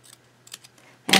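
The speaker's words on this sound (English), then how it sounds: "I might just gonna have to cut just a tiny bit." Card stock is cut with scissors, giving a couple of faint snips followed by one loud, close crunching cut at the very end.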